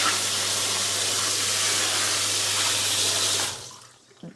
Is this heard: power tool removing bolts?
no